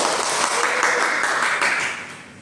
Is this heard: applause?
yes